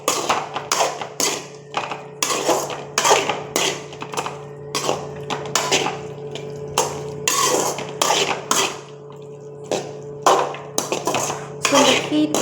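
A spoon stirs goat liver gravy in a metal pan, making a steady run of sharp clinks and scrapes over a faint background hum.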